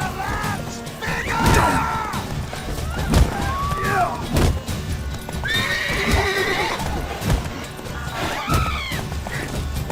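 A horse in The Witcher 3 neighs several times in loud, bright whinnies over steady clip-clopping hooves and occasional thuds and crashes from combat.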